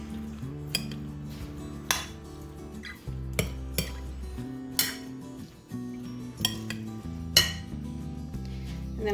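A spoon stirs salt through macaroni salad in a bowl, scraping and clinking against the dish again and again in an uneven rhythm, close and fairly loud, with nobody talking.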